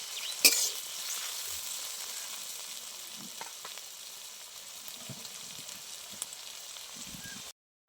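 Chopped tomato hits onions already frying in a pan for a village-style dish, giving a soft, even sizzle with a sharp pop at the start and faint stirring scrapes, and no talk.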